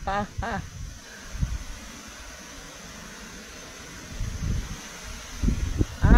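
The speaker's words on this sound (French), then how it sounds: "Parce qu'il y a du vent ici." Wind gusts buffet the microphone outdoors with steady rumbling and hiss, while someone speaks briefly at the start and end.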